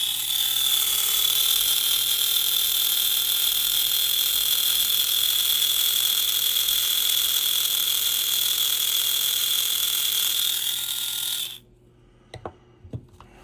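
An unoiled slot car chassis runs rough on the track, its pick-up shoes rubbing hard on the rails, making a loud, continuous high-pitched whirring buzz for about eleven seconds that stops abruptly, followed by a few faint clicks.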